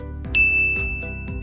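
A bright notification-bell sound effect rings once, clear and close, leaving a sustained metallic tone, with faint soft tonal music underneath.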